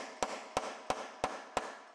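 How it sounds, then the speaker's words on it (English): A socket being hammered onto rusted bolts on a damaged Lexus IS250, five evenly spaced sharp metallic blows with brief ringing decay, close and moderately loud, no talking. "So we'll hammer the socket on a couple more of our bolts."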